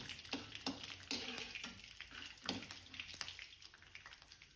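Groundnuts frying in ghee in a kadai, a faint crackling sizzle broken by soft scraping stirs at an irregular pace.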